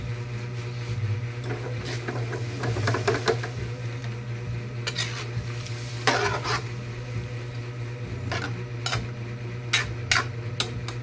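Chicken curry with coconut milk simmering in a pot, a steady low bubbling hiss with intermittent scraping and clinking of a spoon stirring against the pot, close and fairly constant throughout.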